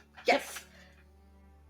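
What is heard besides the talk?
sneeze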